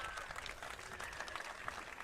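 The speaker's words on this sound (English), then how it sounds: "he escapes the mound with a standing ovation from his home crowd" A home crowd gives a standing ovation at a high school baseball sectional final, a dense steady wash of applause and cheering that holds for about two seconds without a break.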